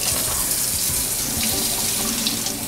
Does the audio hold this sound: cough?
no